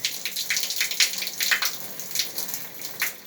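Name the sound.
cold water running from a tap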